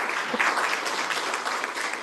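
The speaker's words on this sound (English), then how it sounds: "Give the candidates another round of applause." An audience at a ward meet-the-candidates event applauds the candidates, with a continuous wash of clapping at moderate loudness lasting the whole short stretch.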